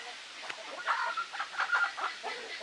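Chickens and a rooster cluck and murmur close by in a quiet farmyard, a run of soft irregular clucks and short squawks rising and falling over a couple of seconds.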